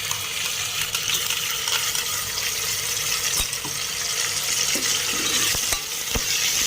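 Ginger garlic paste fries with a steady bright sizzle in a pan as it is stirred, scraping and clinking now and then, for a home-style matki pulao with onions and peanuts already browned.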